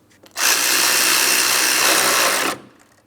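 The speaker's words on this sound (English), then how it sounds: "Now that they're both started in, we can tighten that hardware" A handheld power tool tightens a 10mm bolt on the A/C condenser fan assembly of a 2004-2008 Pontiac Grand Prix 3.8L V6, giving one loud, close whir of about two seconds before stopping.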